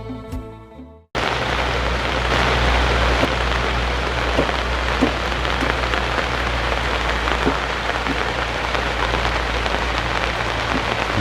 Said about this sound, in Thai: ฟ้าฝนตกลงมาแล้ว